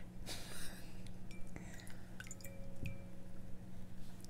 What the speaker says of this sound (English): I actually use the brush to wet my face.